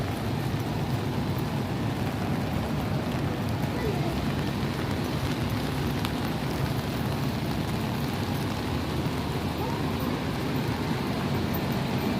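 Steady rain hissing across a surface, a continuous broadband wash with no break, with faint voices and street noise underneath, in a town street.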